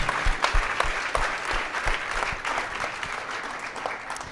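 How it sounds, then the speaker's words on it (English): Audience applause at a cleantech finale pitch night, a dense steady clapping from a large crowd filling the whole stretch at moderate level. "So I want you to give us all a round of applause."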